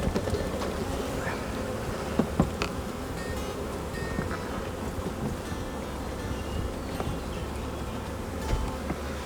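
Honey bees buzzing steadily around an open hive during a split outdoors in Northern Nevada, a dense continuous drone with occasional closer passes and light wind.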